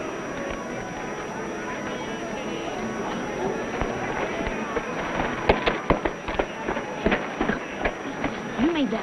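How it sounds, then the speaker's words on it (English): Gunshots ring out in a Western-style shooting contest, a run of sharp cracks clustered in the second half, loud and close over a busy background with people talking. "I know you shot at Lofty's target, and he shot at yours"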